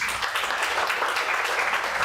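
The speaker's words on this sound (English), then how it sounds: "please big round of applause for the speaker" An audience at a technical conference session applauds a speaker, giving a dense, steady wash of clapping that holds at an even level without a break.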